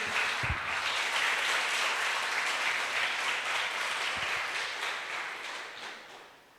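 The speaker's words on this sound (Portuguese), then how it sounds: "dê um aplauso ao Senhor Jesus" A church congregation applauds during a Portuguese-language sermon, a broad, sustained roar of many hands clapping that holds steady and then slowly fades toward the close.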